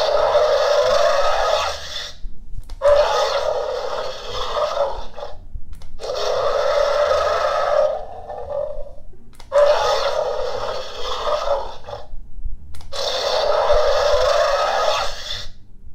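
A Mattel Jurassic World Dominion Sound Surge Carnotaurus toy plays five harsh electronic roars, each about two seconds long with short gaps between, loud and close.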